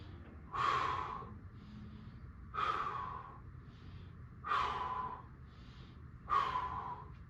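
Four forceful exhales during a standing exercise, one roughly every two seconds in a steady rhythm, close and clear, with quieter breaths in between and no talking.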